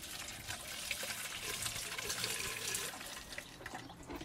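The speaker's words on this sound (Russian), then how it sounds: "Лейку доверху наполняю водой." Water runs into a watering can being filled to the top in a vegetable garden, a steady hissing, splashing gush heard alone and fairly faint, continuous from start to finish.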